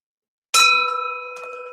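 A single bell ding strikes sharply out of silence, then its bright metallic ring decays slowly and stands alone.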